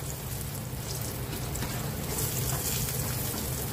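Poha snack base deep-frying in hot oil, a steady close sizzle and bubbling that holds even throughout with no voices.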